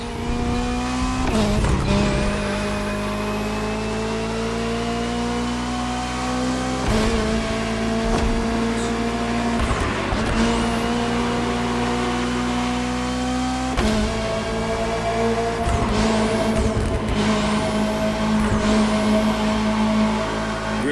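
Race cars in The Crew Motorfest, including a Ferrari 488 GT3, McLaren Senna GTR, Bugatti Bolide and Lamborghini Essenza, roar around a track in a loud, sustained engine drone, with sharp pitch drops at each gear shift and occasional tire squeal.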